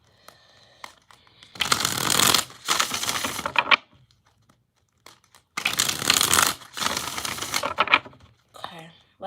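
Tarot cards shuffled by hand in two bursts of crisp riffling, each roughly two seconds long, separated by a quiet pause, close and fairly loud with no talking over them.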